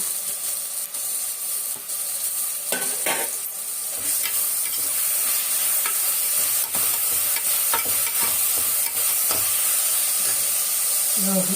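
Mint leaves and onions sauté in a hot pan for biryani, a steady sizzle and hiss of frying with repeated scraping and stirring clatters from a spoon against the pan.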